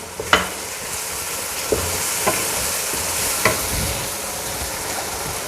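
Beef liver frying in a pan with yogurt just added, a constant sizzle broken by several sharp clinks of a spoon against the pan as it is stirred, with no speech.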